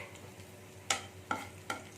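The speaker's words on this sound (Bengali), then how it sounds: "এখানে আমার পেঁয়াজটা ভাজা হয়ে গেছে দুটো কাঁচা লঙ্কা দিয়ে দিলাম কাঁচা লঙ্কা দুটো ভাজা হয়ে যাবে এর সাথে" Onions and two green chilies frying in a pan for a spinach dish, with a quiet background sizzle broken by three sharp stirring scrapes spaced about half a second apart.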